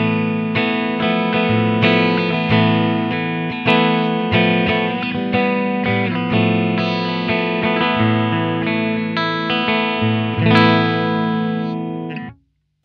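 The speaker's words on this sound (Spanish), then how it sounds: "Este es el canal limpio con todos los pedales apagados." Electric guitar played through a clean amp channel with all pedals switched off, sustained chords and picked notes ringing loud and steady before cutting off at the end.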